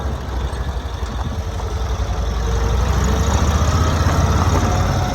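A 1990s Cushman Truckster utility vehicle's engine runs steadily while driving, a loud, low rumbling drone that grows slightly stronger partway through, with no talk over it.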